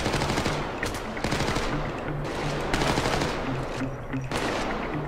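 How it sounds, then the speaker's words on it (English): Enemy guns firing in the heist shooter Payday 2, loud rapid automatic bursts that repeat in dense overlapping volleys with brief gaps, filling the whole stretch. "I really wish these guys would stop shooting me."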